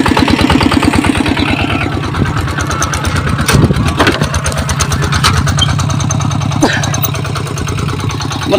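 A tractor engine runs in Laos, chugging steadily and loudly nearby at an even rhythm, with people talking over the rumble.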